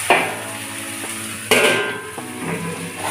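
A metal lid set down on a cooking pan of kolmi shak (water spinach), two clear clanks with ringing metallic tones plus a few lighter knocks and scrapes, close and loud with no talking.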